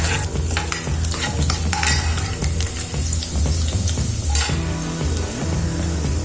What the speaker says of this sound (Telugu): దీన్ని కూడా వేసుకొని ఎర్రగా వేపుకోవాలి.